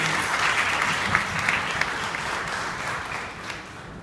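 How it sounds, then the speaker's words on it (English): Audience at an International Women's Day event gives a steady, dense round of applause that holds at an even level and eases slightly toward the end. "Can we have a round of applause for all of you?"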